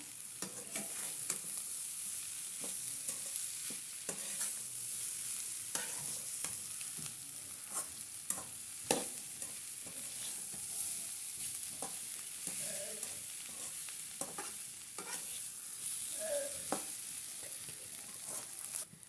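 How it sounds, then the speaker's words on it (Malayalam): Mashed potato being stirred into sautéed onions in a pan for potato bonda: soft scraping and mixing strokes with a faint sizzle, moderately close and steady, interrupted by occasional light clinks. "ഇനി നമ്മൾ അതിലോട്ട് ഉടച്ചു വെച്ച ഉരുളക്കിഴങ്ങാണ് ചേർക്കുന്നത്. ആയിട്ട് മിക്സ് ചെയ്ത് കൊടുക്കാം"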